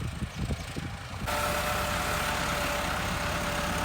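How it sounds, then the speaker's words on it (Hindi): An excavator loads a tractor trolley at a work site in Kot Addu, a steady rumbling engine drone that rises and holds after a few rough knocking bursts at the start. "ये सामने एक्सकेवेटर मशीन ट्राली को लोड कर रहा है"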